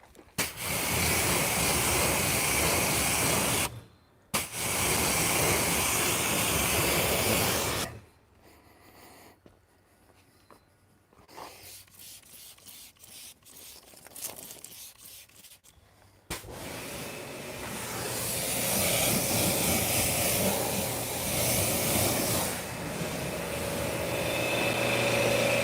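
Bursts of spray from a trigger bottle loaded with a detailing product that had sat unused, with long hissing spurts up close, a quieter stretch of rubbing and handling, then a sustained spray.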